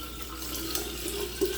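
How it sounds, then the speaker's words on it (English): Cold well water pours steadily over ginger and blueberries for a homemade switchel drink, a soft continuous splashing stream heard close by. "I'm gonna cover everything with cold water, and my water is from the well."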